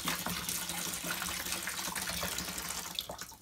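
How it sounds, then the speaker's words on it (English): Water pouring steadily into an RV travel trailer toilet during winterizing, a continuous gushing splash lasting a few seconds, close and fairly loud with no talk. "I'll go ahead and just pour the rest of it into the toilet here."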